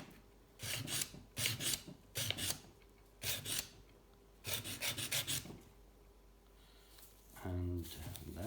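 Hand filing a chamfer on a metal part for a gravel touring bike build, bursts of rasping strokes in quick groups separated by pauses, close and fairly quiet, with a short low tonal sound near the end.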